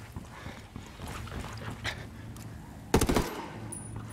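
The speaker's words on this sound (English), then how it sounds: "Nobody hears these gunshots." A short, loud burst of rapid gunfire cracks out about two-thirds of the way through a gameplay moment in Ghost Recon: Wildlands, over a low, steady game soundscape with scattered faint thuds before it.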